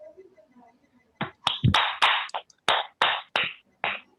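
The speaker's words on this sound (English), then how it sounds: "A big clap for yourself." A class claps during an online maths lesson: about eight sharp, separate claps in uneven succession, close and fairly loud, after a quiet stretch with faint background voices.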